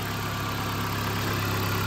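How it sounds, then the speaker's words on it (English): 2009 Jeep Patriot 2.4 liter four-wheel drive engine with 95,000 miles idling steadily, a close, even mid-pitched hum with no talk. "Engine runs nice and strong"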